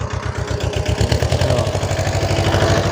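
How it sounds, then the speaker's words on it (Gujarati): A mini tractor engine runs in a castor field where sand is being piled along the rows, a loud, steady rapid chugging with an even knocking pulse, close by and with no voices. "મિની ટ્રેક્ટરનો અવાજ છે"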